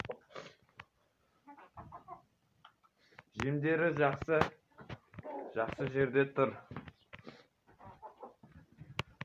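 Hens of mixed breeds, including Lohmann Brown and Brahma, cluck in a backyard flock kept with roosters, heard in short bursts between a person speaking close by.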